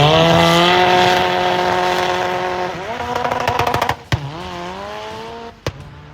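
Turbocharged drag racing cars running on E85 at the Jade Race in Germany blast past with a loud, harmonic engine roar, then rapid shifting crackles, abrupt cutoffs and a final sharp pop as the sound drops away.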